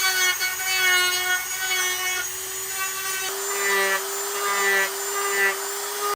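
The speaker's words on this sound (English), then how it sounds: "it's time to take the Dremel out and get your edges nice and smooth" A Dremel rotary tool smooths the trimmed edges of a plastic Stormtrooper costume back piece, a steady high-pitched whine with strong harmonics running the whole time and small shifts in pitch as it grinds.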